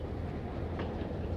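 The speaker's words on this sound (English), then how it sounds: "Merv has two freight trains in town and two Indian Pacific passenger trains approaching" Indian Pacific passenger train running on an Australian railway line, a steady low rumble with faint rolling clatter throughout, moderately distant and without voices.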